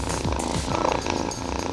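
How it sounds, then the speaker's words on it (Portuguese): A cat purrs close up in a short, soft, rhythmic rumble, the breathy pulses repeating evenly with nothing else heard. "Quem gosta de gatos já está mais do que acostumado com o ronronar dos bichanos."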